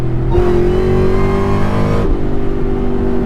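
The Whipple supercharger on an 800-plus horsepower 2003 Ford SVT Cobra whines high and loud as the engine revs hard, the rising tone holding strongly for a couple of seconds before dropping away under a continuing engine rumble.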